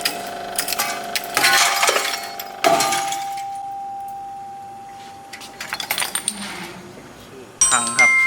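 A fired clay brick cracks under a compression testing machine. Loud bursts of sharp cracking and crumbling, clinking fragments are separated by a steady mechanical hum.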